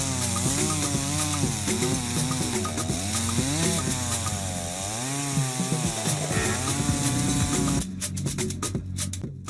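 A chainsaw cuts through logs of varying sizes, its engine whining and bogging in rising and falling waves for several seconds before the cut ends in choppy, rattling bursts.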